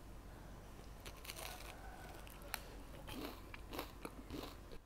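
Someone bites into and chews a marshmallow Rice Krispie treat, making soft crunchy bites and chewing close to the microphone in a quiet room.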